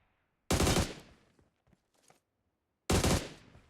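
AUG rifle firing in PUBG Mobile: two loud, abrupt bursts about two and a half seconds apart, each decaying quickly, with faint scattered sounds and near silence between them.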